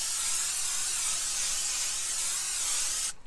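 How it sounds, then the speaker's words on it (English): Olive oil cooking spray hisses from a can onto a Blackstone griddle set on low heat, one continuous close, bright spray lasting about three seconds before cutting off abruptly. "We'll put just a little bit of cooking spray down, olive oil."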